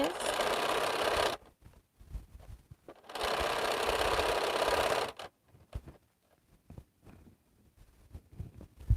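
A sewing machine stitches fabric strips for quilt blocks in two sustained runs of steady whirring, each a few seconds long, separated by pauses filled with faint handling noises.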